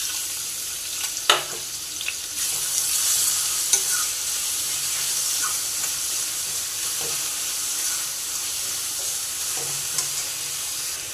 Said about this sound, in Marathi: मिरची थोडी कळसळली की त्याच्यामध्ये आपण कांदा टाकून घेऊया।